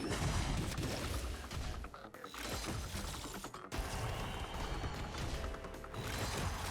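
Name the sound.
explosions in a video game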